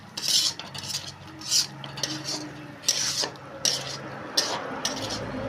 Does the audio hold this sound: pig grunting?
no